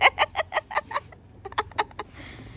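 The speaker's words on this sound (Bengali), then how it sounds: "হাঁস দেখো, হাঁস হাঁটছে দেখো" A duck gives a run of quick, evenly spaced quacks, then a second burst after a short pause. The calls are nearby but fairly quiet, with no talking.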